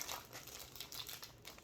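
Plastic wrapping crinkling around a cross-stitch sampler as it is handled, a soft, close rustle continuing steadily for under two seconds with no speech.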